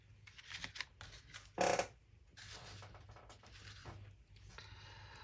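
Scissors cut along the edge of a playing card being altered for a junk journal, giving a few soft close snips and rustles, with one sharper louder cut near the middle.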